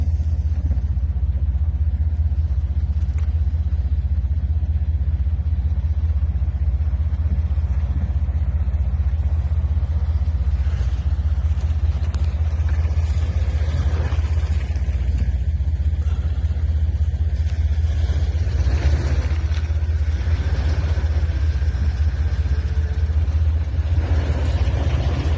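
A vehicle bogging through snow, its engine rumbling and revving loudly and steadily throughout, with no talk.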